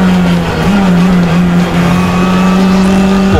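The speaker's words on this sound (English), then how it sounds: "Let's get into the action on the Nordschleife itself with Antti Pöyry." Race cars at speed on the Nürburgring Nordschleife during 24-hour race qualifiers, a loud continuous engine drone holding a steady pitch with a brief dip and a rising rev near the end, with no talking.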